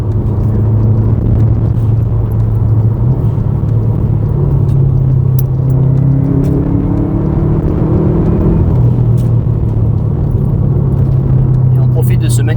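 Loud Subaru car driving on a road, a constant engine drone and tyre rumble with a shifting tone as the revs change midway, voices talking over it.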